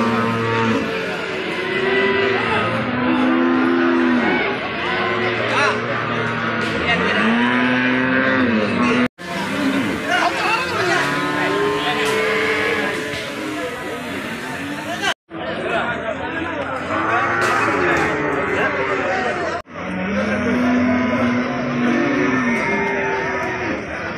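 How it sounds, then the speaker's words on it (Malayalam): Cows mooing at a busy cattle market in Kerala, several drawn-out low moos rising from different animals amid constant crowd chatter and nearby talking. "അവിടുത്തെ പശുക്കളെ വിൽക്കുന്ന മാർക്കറ്റാണ് ഇപ്പോൾ നിൽക്കുന്നത്."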